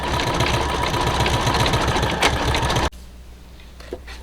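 An embroidery machine stitches out a Christmas design, its steady rapid needle chatter running loud and continuous before cutting off abruptly near the end, leaving a quieter hum.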